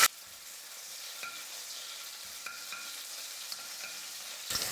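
Finely chopped green chillies sizzle in moderately hot oil in a kadai, a steady, even crackle holding for several seconds with a few small pops and no voices.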